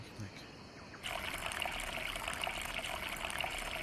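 Water trickles and streams steadily into a container in the Green Hell VR game, starting abruptly after a brief quiet moment and continuing as a close, even pour.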